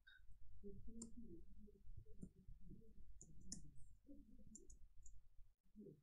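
Keyboard keys click in quick irregular bursts at close range, soft and fairly faint, with short pauses between clusters of keystrokes.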